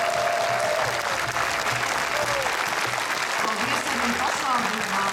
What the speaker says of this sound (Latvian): vai mēs varam aplausus sev pašiem